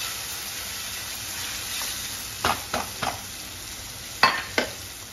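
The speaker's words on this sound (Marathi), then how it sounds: "नंतर हे धुतलेले वरी त्यात टाकायचे आणि ही वरी तुपात छान भाजून घ्यायची।" Barnyard millet (vari) roasts in ghee in a pan for upma, giving a steady low sizzle broken by a few sharp scrapes of stirring close by.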